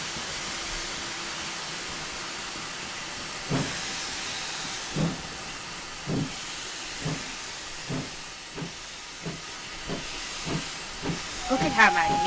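A GWR 8000 steam locomotive in Train Simulator 2021 pulls away, a steady hiss of steam broken by evenly spaced exhaust chuffs that come gradually quicker, ending with a whistle-like tone.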